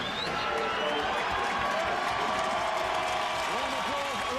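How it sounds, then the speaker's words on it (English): A rugby league stadium crowd applauds warmly, a steady, dense wash of clapping and murmur that stays level throughout, with a commentator talking over it. "Warm applause around the ground."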